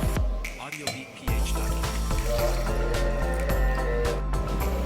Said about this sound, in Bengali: ডাবের পানিটা ঢেলে দেবো এখানে